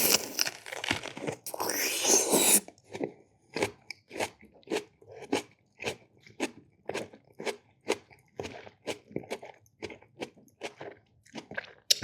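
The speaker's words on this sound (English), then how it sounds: "let's start eating the onion boil" Someone eats a crunchy onion boil, giving a steady series of close, loud crunching bites and chewing; a louder crinkly rustle comes at the start.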